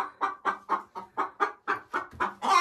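Hens cluck in a chicken coop, with two birds sitting together on a nest fitted with an egg collector: a steady run of about ten close, even clucks, each a short rounded burst, with no voices.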